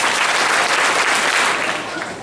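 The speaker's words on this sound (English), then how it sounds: "I get 5 big claps?" Crowd at a high school youth assembly event clapping on cue, a brief burst of many hands that stays loud and even and then tails off slightly.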